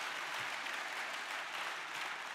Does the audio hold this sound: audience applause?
yes